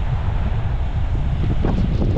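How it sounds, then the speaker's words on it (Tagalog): Strong typhoon wind blows by the sea, a steady rushing roar buffeting the microphone with low surf-like rumble underneath, loud and continuous throughout. "Lakas na ng hangin."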